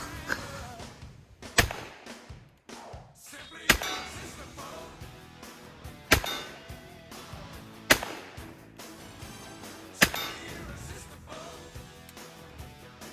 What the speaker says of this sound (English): I missed about half of those, but I was firing fast for you guys